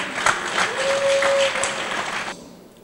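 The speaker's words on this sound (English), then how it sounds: "I think they deserve a round of applause for what they've done" Applause at Leicester's parliamentary election count for the staff and volunteers, a steady crowd clapping for a couple of seconds with a sustained tone running through it, then cutting off abruptly.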